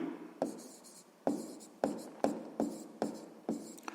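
Pen strokes scratching on paper during a sixth-grade math exercise, a series of about eight short, close scratchy marks in an uneven rhythm with quiet gaps between them.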